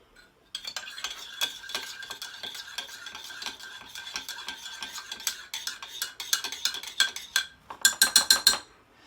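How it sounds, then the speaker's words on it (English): A utensil stirs French toast mixture in a bowl, making quick, bright scraping and clinking strokes that speed up into fast taps near the end. "And now I'm going to stir this up."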